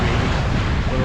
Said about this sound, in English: Wind's just increasing slightly up to about 15 knots